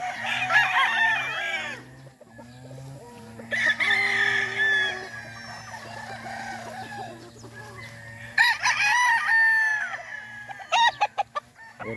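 Chickens cluck and a rooster crows repeatedly in an outdoor yard, several birds calling at moderate distance with quiet gaps between bursts.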